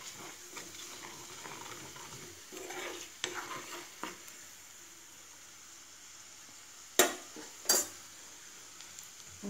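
Half a spoon of chili powder being heated and stirred in a pan for a dates pickle: a soft, steady scraping and light sizzle, with two sharp spoon knocks against the pan near the end.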